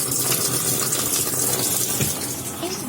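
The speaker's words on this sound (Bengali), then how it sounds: "তো আমি এখন কলটা চালিয়ে দেখাবো। জলটা পড়তে শুরু করেছে।" Tap water gushing into an automatic washing machine's washer tub, a steady, fairly loud rushing splash that continues without a break.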